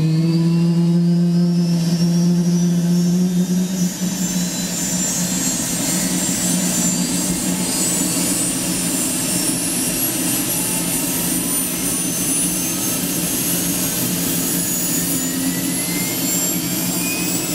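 A Bell JetRanger helicopter turbine engine starts up loud and close, with a rising whine climbing steadily over a dense roar that keeps building throughout.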